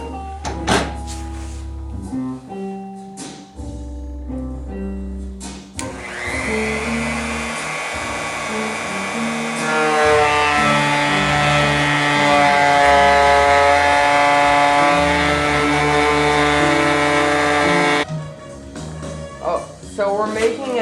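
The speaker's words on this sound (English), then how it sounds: "I'm just going over the edge with a 1/4 inch round over bit" A router fitted with a quarter-inch round-over bit rounds the edges of a Les Paul style guitar body, whining loudly and steadily for several seconds, with shorter bursts of cutting noise before and after.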